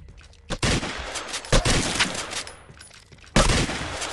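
Gunfire in the iOS shooter Wall of Insanity. Loud bursts of shots come in quick succession, with sharp onsets near 0.5, 1.5 and 3.4 seconds and sustained rattling between them, and no talking over it.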